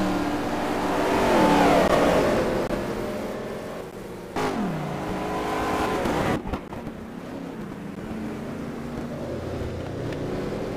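Race cars at an STC Black Cup 2011 round at Most, including a Koenigsegg and an Audi, roar along the straight, one engine note climbing and falling as it passes, followed by a sharp downshift and steady engine drone.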